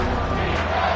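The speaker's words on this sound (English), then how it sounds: "Here comes this home crowd as the defense tries to get off the field on 3rd down." Home crowd at a football game roaring on third down, a dense, loud wall of cheering voices for about a second, with a speaking voice over it.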